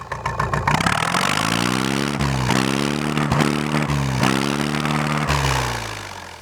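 A small 37 hp farm tractor engine runs close by with a smooth, steady throb that rises and dips through several gentle revs, with no one speaking over it.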